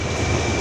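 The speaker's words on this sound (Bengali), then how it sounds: "এই যে আমাদের ট্রেন দিয়ে দিয়েছে, এবার আমরা যাচ্ছি।" Train rumbling at a Sealdah station platform, a steady loud roar with no talk.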